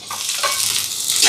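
Onions, curry leaves, fenugreek and green chillies sizzle in a pan with steady frying noise, bits crackling and hissing as they're stirred, close up and with no voices.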